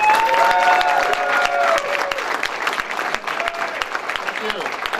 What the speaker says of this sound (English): please give a nice big round of applause